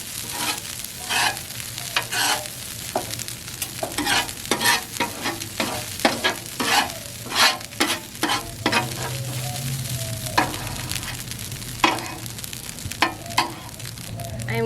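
Beef and rice fry on a Blackstone griddle with a steady, close sizzle, broken by repeated quick scrapes and stirs of a spatula across the hot flat top, with no talking.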